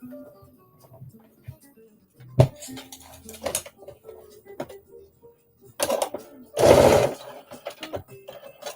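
A sewing machine runs in short bursts while stitching a jumpsuit seam at a 5/8-inch seam allowance, with quieter pauses between runs and one louder, denser burst near the end.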